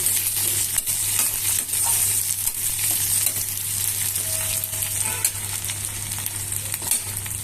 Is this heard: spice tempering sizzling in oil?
yes